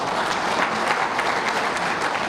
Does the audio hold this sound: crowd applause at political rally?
yes